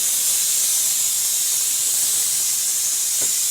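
A pressure cooker boiling potatoes lets out a continuous broad steam hiss, steady and loud from start to finish with no breaks, close by and with no voices.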